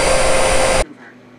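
A Shark vacuum cleaner running loudly and close, a steady dense whine and roar that cuts off abruptly near the end, leaving quiet.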